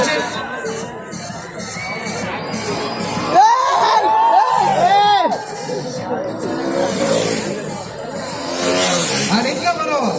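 KTM motorcycles race around a track, their engines rising and sweeping past in loud, revving passes over a crowd murmur, with a commentator talking throughout.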